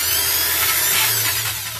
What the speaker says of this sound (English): Drill it from the back side a little bit.